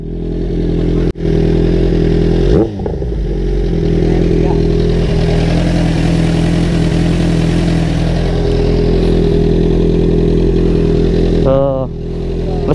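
A Kawasaki Z1000 with an Arrow single exhaust idles close by in a steady, loud rumble, with a few brief clunks and a short revving blip near the end while someone talks over it.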